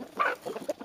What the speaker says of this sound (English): here are my chickens